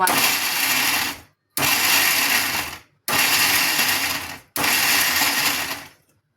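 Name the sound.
mixer grinder pulsing green chillies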